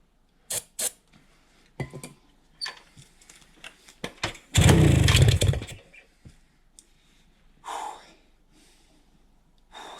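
A 1971 Kawasaki F7 motorcycle with suspected carburetor issues being kick-started: several short thumps and heavy breathing, then one loud burst of the engine firing for about a second before dying, followed by more scattered kicks.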